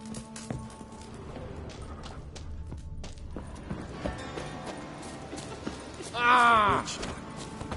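Roach, a horse in The Witcher 3 video game, clip-clops at a run with steady hoofbeats under game ambience and some talk, ending in a loud, tonal burst near the end.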